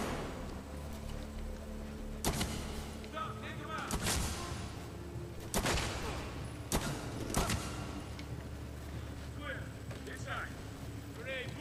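Loud gunshots in the video game Medal of Honor Warfighter, a handful of sharp, spaced single blasts cracking over background game ambience, with a voice talking in between.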